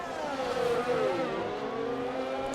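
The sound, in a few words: Formula 1 car racing at Chinese Grand Prix in video game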